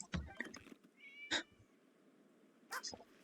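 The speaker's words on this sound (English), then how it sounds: "It was just a cat." A video game cat meows several times, short and clear, with faint clicks and pauses between calls and no talk over them.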